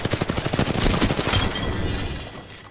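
Rapid automatic gunfire in the video game Apex Legends, a fast run of evenly spaced, punchy shots up close that blurs into a noisy wash and fades over a couple of seconds.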